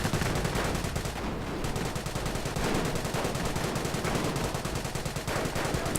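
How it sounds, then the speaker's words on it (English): Bren gun machine-gun fire in a video game set during a British advance, a dense, unbroken rattle of rapid automatic shots that stays loud and close throughout. "Bren gunners providing support for the rest of the British advance"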